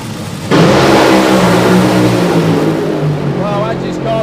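Drag racing cars launch off the start line with a sudden loud engine roar that keeps building as they accelerate down the strip at a live event, and an announcer talks over the engines.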